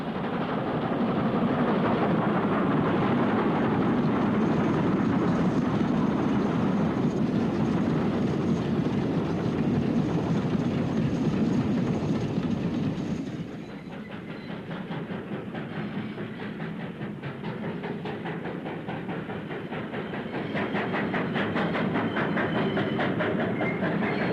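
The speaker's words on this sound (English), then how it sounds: "A westbound Black 5 hurries a passenger train towards the tunnel." A westbound LMS Black 5 steam locomotive hauls a passenger train at speed past Booth Bank near a tunnel in the Pennines, a loud steady roar of running wheels and rail clatter that drops back partway through and then rises again.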